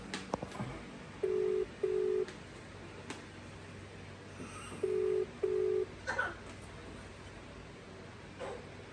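Phone call tones on a hung-up call: two pairs of short beeps, repeated once after a gap, faint against a quiet room background with no speech.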